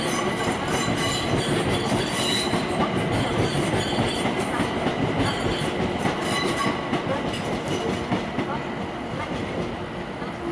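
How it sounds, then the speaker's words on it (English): A London Overground electric train bound for Watford Junction rolls past close by, a loud steady rumble of wheels on rail with faint clickety-clack and a touch of squeal, fading slightly toward the end. "here's London Overground service to Watford Junction."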